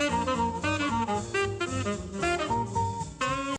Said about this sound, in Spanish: el género del bebop suena así